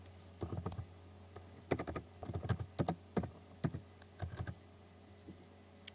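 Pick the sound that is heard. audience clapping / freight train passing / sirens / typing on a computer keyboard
typing on a computer keyboard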